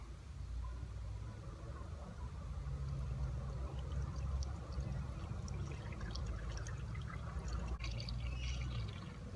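Coolant glugs and trickles steadily as it is poured into a ute's cooling system, a continuous low liquid burble with faint splashes, close and moderately quiet throughout.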